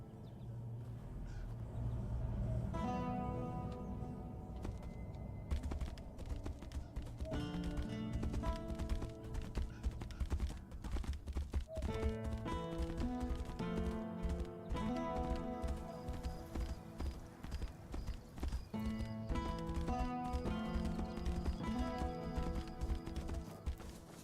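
Horse hooves clip-clopping with an occasional whinny in the video game Tainted Grail: Fall of Avalon, set under a continuous, loud musical score that dominates throughout.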